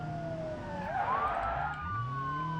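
Police car siren in BeamNG.drive, a wailing electronic tone sweeping up and down over a low engine hum, loud and close for the whole stretch with no talk.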